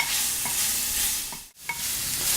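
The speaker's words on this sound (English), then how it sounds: "I'm going to give those a good stir so they're coated pretty good in the garlic and the olive oil." Garlic and mushrooms sizzle steadily in hot olive oil in a pan as a spatula stirs and scrapes through them, the frying hiss constant apart from one brief pause.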